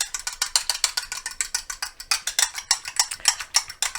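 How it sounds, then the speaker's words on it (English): An egg is beaten briskly by hand in a bowl, probably with a fork or whisk: a fast, even train of bright clicking strokes, about eight per second, close and steady, with no talking. "I'm going to beat this egg real quick before I mix it in."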